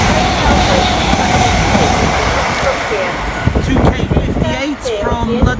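A Greater Anglia train on the Great Eastern Main Line rumbles past with a broad roar and wind buffeting the microphone, then thins out into a clattering of wheels and passing carriage sounds.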